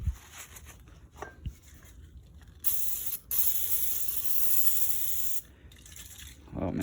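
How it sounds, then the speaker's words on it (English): Lubricating oil sprayed from an aerosol can into a Ford 9-inch rear end, a loud hissing burst lasting a couple of seconds, with a shorter spray after it and handling clicks before. "I'm taking this spray, which is just lubricating oil, and I'm spraying it inside there, like that."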